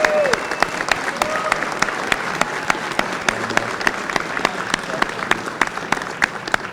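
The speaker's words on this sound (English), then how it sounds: "Give him a round of applause, please." Applause at a Republican bail reform rally: a crowd claps steadily, with sharp individual claps standing out close by over a broad, continuous patter.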